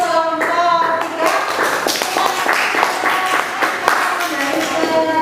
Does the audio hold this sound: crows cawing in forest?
no